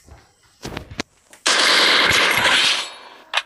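MP40 submachine gun fire in a video game plays as a long, loud, sustained automatic burst lasting about two seconds. A few short sharp shots come before it and one lone shot follows it.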